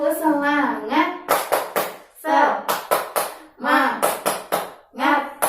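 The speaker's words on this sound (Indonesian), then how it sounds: "Yuk, 1, 2, 3. Tepuk semangat." Children in a fourth-grade classroom chant together and clap in sharp rhythmic bursts during a spirit clap, with loud grouped claps alternating with voices.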